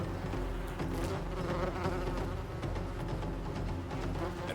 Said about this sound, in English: Rainforest wasps are among the most avid predators of glass frog eggs.